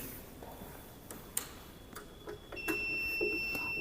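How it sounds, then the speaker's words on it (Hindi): A DC regulated power supply under load sounds its current-limit alarm, a steady electronic beep tone that starts partway through and holds continuously after a few faint ticks and clicks. "अब ये देखिए ये बीप का अलार्म आने लगा, इसका मतलब करंट की लिमिट ये बढ़ानी पड़ेगी।"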